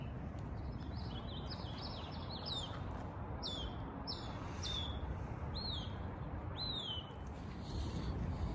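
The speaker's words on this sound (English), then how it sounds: "It's so peaceful right now with all of the birds chirping and stuff." Several birds chirp in a tree outdoors in the morning, with short, sharp, repeated calls over steady background noise.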